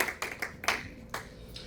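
A church congregation claps in a quick, irregular rhythm, the sharp claps sounding somewhat distant in a reverberant room.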